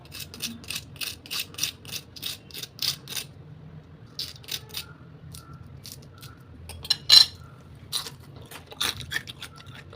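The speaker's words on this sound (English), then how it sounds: "just listen the sound of the crunchiest okra." Close, crisp crunching in quick repeated bites, sharp bursts of crackle with brief pauses between them, no talking.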